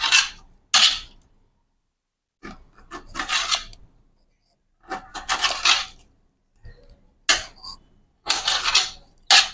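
A knife slices through lemons, cutting each into four pieces for a traditional village-style lemon pickle, in several separate bursts of crisp cutting and scraping with quiet gaps between them.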